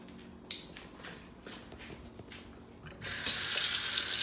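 Water from a household faucet starts gushing loudly about three seconds in and runs steadily to the end, with a few faint clicks and knocks before it.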